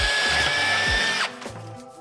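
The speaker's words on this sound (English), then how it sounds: "Let's just drill even more holes now." A drill bores holes through thin aircraft sheet metal for a jet tank racer, a loud steady whine that cuts off abruptly partway through, leaving quieter workshop clatter.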